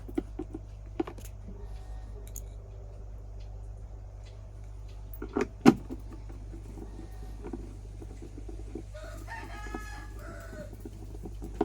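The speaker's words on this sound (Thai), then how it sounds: "มีเสียงไก่น้ำเล็กน้อยเด้อพี่น้องเพราะว่าอยู่บ้านนอกบ้านหน้าเฮาก็เลี้ยงเป็ดเลี้ยงไก่" Countryside chickens clucking around a rural home where ducks and chickens are raised, with a rooster crowing once, faint and somewhat distant, and a few sharp knocks heard nearby.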